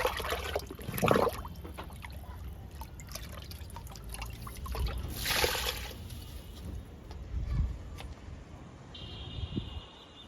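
Liquid fertilizer poured onto a young jamun plant in a garden, with soft splashing and trickling bursts of liquid hitting soil, faint and intermittent.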